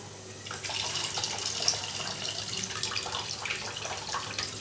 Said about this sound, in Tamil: இப்போ இந்த ரைஸில் இருக்க தண்ணி நான் வடிச்சு எடுத்துட்றேன்